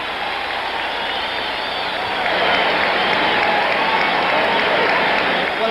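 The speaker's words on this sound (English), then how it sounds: "What a cheer for Quarry." Loud, sustained crowd roar and applause fill a boxing arena between rounds of a Muhammad Ali vs Jerry Quarry bout, a dense continuous wash of cheering swelling slightly midway.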